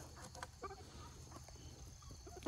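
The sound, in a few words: chickens clucking while eating thrown food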